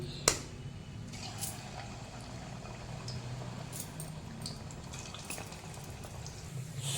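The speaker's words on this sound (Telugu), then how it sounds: "ఇంకా మిగతావి వేగుతున్నాయి" Appam sweets frying in oil on a low flame, a soft steady bubbling hiss with occasional faint crackles, continuous and fairly quiet throughout.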